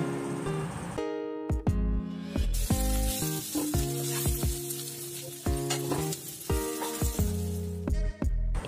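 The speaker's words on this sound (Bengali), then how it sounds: "এবার এই তেলে আলুগুলোকেও একটু ভেজে নেব।" Potato pieces frying in hot oil for an Alu Peyajer Torkari, a steady close sizzle with crackling bursts throughout, broken by clinks of a utensil stirring the pan.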